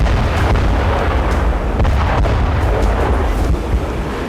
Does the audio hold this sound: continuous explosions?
yes